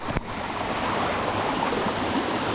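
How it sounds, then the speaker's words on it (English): A small waterfall at Buderim Falls pours steadily, a dense, continuous rushing hiss heard up close, with a brief click near the start. "And then there's another little waterfall down over here."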